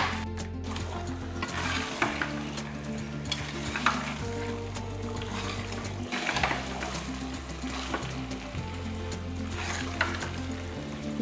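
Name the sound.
chicken sautéing in pan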